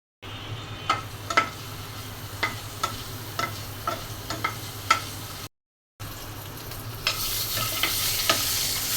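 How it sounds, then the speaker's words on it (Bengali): An egg fries in a pan seasoned with turmeric and salt, giving a steady sizzle. Sharp scrapes and taps of a spatula stir through it, and the frying grows louder and hissier toward the end. "ডিমটা ভেজে নিলাম, এখন উঠিয়ে নিচ্ছি"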